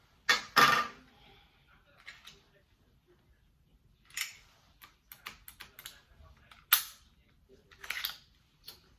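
Slide coming off a Smith & Wesson SD9VE 9mm pistol: sparse, sharp metallic clicks and clacks in a quiet room, a couple of louder snaps at the start followed by scattered lighter handling noises.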